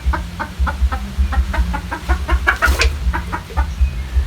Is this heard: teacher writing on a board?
no